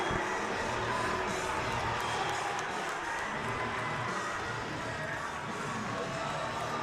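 A crowd at a varsity boys wrestling dual meet cheering as the wrestlers come out, a dense continuous roar of voices and whoops filling the gym at steady volume throughout.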